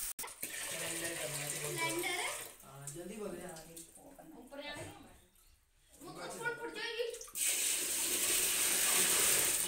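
Tap water pours into buckets at close range, a broad steady rush that eases and returns in stretches, with a brief gap near the middle and a strong surge near the end.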